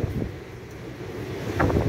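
Strong typhoon wind gusts across the microphone outdoors, a steady low roaring rumble that swells louder near the end, with no voices.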